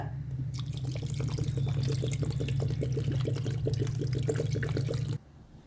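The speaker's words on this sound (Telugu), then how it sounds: "అయితే ఇందులో నేను 1/2 లీటరు నీళ్ళు పోసుకుంటానమ్మా" Water pours steadily into a pot of mutton soup bones. A close, continuous gurgling splash with a low hum runs for about five seconds and then stops abruptly.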